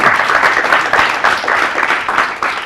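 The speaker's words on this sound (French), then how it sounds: "On applaudit." Applause from an audience at a youth champions contest between the Ali Sabieh and Arta regions, a dense, steady patter of many hands filling the whole stretch with slight surges and no talk over it.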